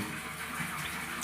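Water gushes steadily from a tap for washing a motorcycle, a continuous close hiss and splash that holds level without a break.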